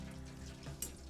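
Tempura-battered fish goujonnettes frying in a deep fryer give a short, steady hiss of bubbling oil with a brief sharper crackle near the end, close and alone.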